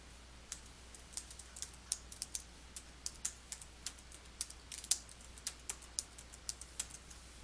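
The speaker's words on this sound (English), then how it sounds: "click into the Search Adobe Support field and then type your question or keywords" Typing on a computer keyboard: a quick, uneven run of light, crisp key clicks at close range, heard alone over a faint steady hum.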